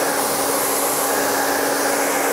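A hair dryer blows steadily and loudly at close range, heating a section of hair wrapped around a round brush, a constant broadband whoosh with no voices.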